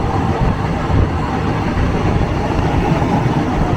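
A crowded passenger train rolls along the Death Railway in Kanchanaburi, Thailand, giving a steady, loud low rumble of wheels and carriages heard from close by, with no talk.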